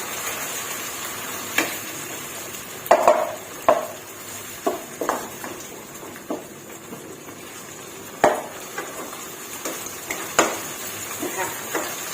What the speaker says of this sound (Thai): ใส่หมูสับลงไป รวนให้หมูสุกค่ะ